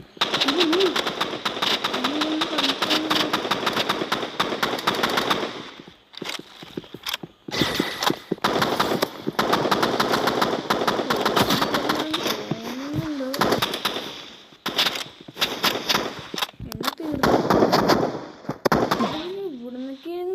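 Rapid bursts of gunfire and shots from the Roblox shooter game Rivals crackle in repeated volleys, with a person talking over the action throughout.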